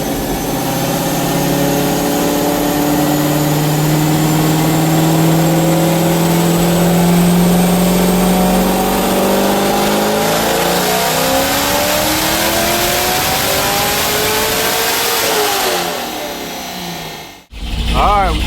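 A Corvette C6 Z06 with a Myatt package, running on 93 pump gas, revs loud and close on a dyno, its engine note climbing steadily through a long sustained pull before cutting off abruptly near the end.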